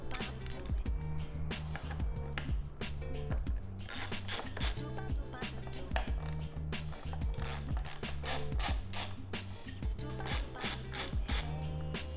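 Screws, Torx and 4mm, are being removed from a 2024 Ducati Hypermotard 698 Mono during a fender eliminator install, giving rapid, irregular ratchet clicks and small metallic ticks, close and fairly quiet, with no talking.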